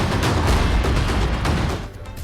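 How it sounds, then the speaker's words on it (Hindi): An explosion at a house in Tral during a security forces' search operation makes a loud, sustained roaring blast that fills the whole moment and eases slightly near the end. "सर्च ऑपरेशन के दौरान ये धमाका हुआ है"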